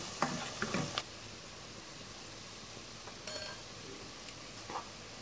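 Onions frying in a pan with a spoonful of gram flour and chili powder stirred in, a soft steady sizzle broken by a few clattering stirs near the start and light knocks later.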